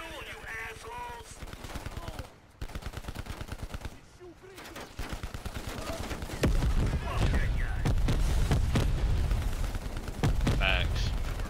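Gunfire in Call of Duty: Black Ops Cold War: rapid automatic bursts rattle close and loud, building into sustained fire in the second half, with people talking over it.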